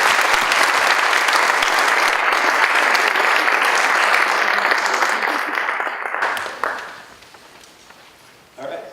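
Breakfast audience giving a round of applause for students in top-level academic classes, a loud dense burst of clapping that holds for several seconds, then thins and fades with a few scattered claps and a brief voice.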